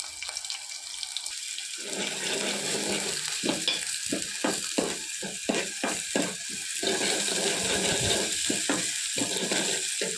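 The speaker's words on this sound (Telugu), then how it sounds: "నేను ఫస్ట్ ఇలా ఆనియన్స్ వేపేయాలన్నమాట" Onions fry in a pan for a simple crab curry, giving a steady hiss and sizzle with bursts of crackling and scraping as they are stirred, close and continuous.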